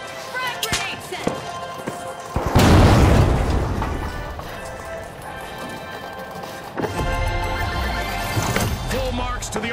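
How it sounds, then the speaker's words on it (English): A frag grenade blast in the shooter game The Finals, a loud broadband boom about a third of the way in that rolls off over a couple of seconds, followed later by a second heavy burst of debris and rumble amid continuous game noise. "Frag grenade set!"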